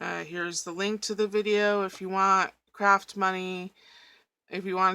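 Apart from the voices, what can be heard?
No everyday noises stand out.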